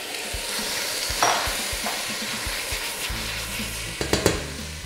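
Fish bones dropped into a hot pan with softened vegetables for fish stock, giving a steady close sizzle with brief stirring scrapes and a few clattering knocks near the end.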